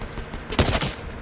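A brief burst of Fortnite gunfire, a rapid cluster of loud, close shots in quick succession over roughly a second, with no talking.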